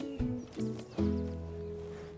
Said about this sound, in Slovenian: Harry je konj.